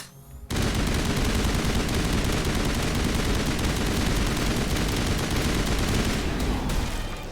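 Sustained rapid gunfire in Mass Effect Legendary Edition, a dense, loud, continuous barrage that starts abruptly after a brief quiet moment and carries on without pause to the end.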